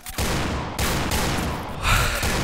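Rapid pistol shots crack in quick succession over a dense, noisy Point Blank game soundscape, loud and close with no pause between bursts.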